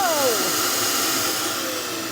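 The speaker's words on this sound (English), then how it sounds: "This is a built-in vacuum system. We turn this on." A built-in central vacuum system in a 2024 Montana High Country 311RD RV runs with a steady, loud broadband whoosh, a falling whine at the start, holding continuously and easing slightly toward the end.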